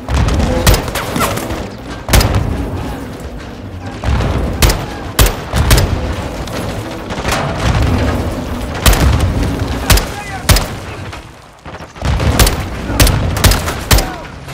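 Repeated grenade blasts and bursts of gunfire from a Modern Warfare 2 campaign firefight, sharp loud booms striking every second or two over a continuous din of shots and battle noise.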